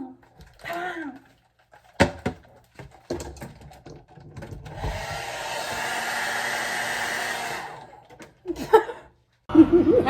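Hair blower running in a bathroom, a steady breathy rush that holds for about four seconds mid-clip, framed by bursts of talk, laughter and clatter before and after.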